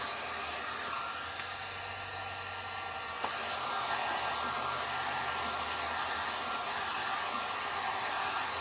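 A hair dryer blows over wet paint on a stencil for a stained glass nativity door round, a continuous, even rushing whoosh held close and steady throughout with no talking.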